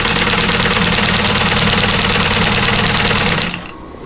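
A 1947 Singer 15-90 vintage sewing machine quilting, a fast steady mechanical whir with rapid stitch clatter, close and loud, running continuously before stopping abruptly near the end.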